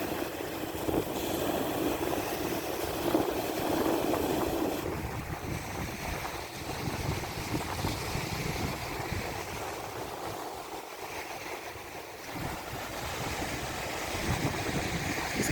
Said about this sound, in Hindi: आज हवा भी काफ़ी तेज़ है और पानी भी काफ़ी ऊपर तक आया हुआ है